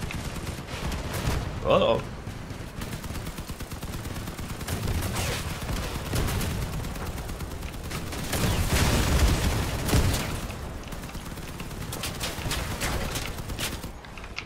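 Gunfire aimed at car wheels in the post-apocalyptic vehicle combat game Crossout: rapid, dense bursts of shots and booms rolling on throughout, with a player's voice briefly talking over the battle.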